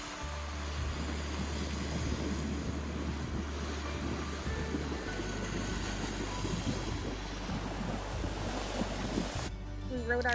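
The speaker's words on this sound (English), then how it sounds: "and watch the waves." Waves wash steadily onto the shore of Lake Michigan at Illinois State Beach, a continuous rushing surf mixed with strong wind buffeting the microphone, with no voices.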